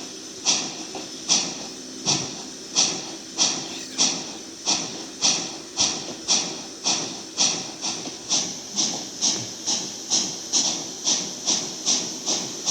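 Rhythmic steam chuffs puff steadily from a locomotive, a regular hissing beat that keeps pace over a low mechanical rumble.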